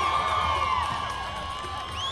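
A crowd at a country festival in Juiz de Fora cheers and shouts steadily, with scattered whoops and high voices rising over a continuous roar, heard at a distance over faint background music.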